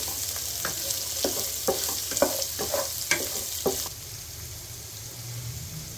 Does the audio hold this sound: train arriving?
no